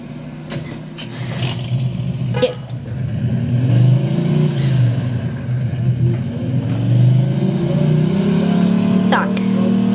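Fast car engine in the Mafia II video game revving up and down in smooth swelling waves, a loud, rumbling drone with someone talking over it throughout.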